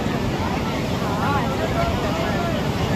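Wind at Digha sea beach on a hot sunny day, a steady broadband rush of buffeting wind against the microphone with surf-like noise, constant and loud throughout.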